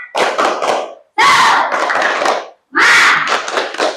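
Schoolchildren in a fourth-grade classroom perform a rhythmic spirit clap (tepuk semangat) in three loud, close bursts of clapping with shouted voices, separated by brief pauses.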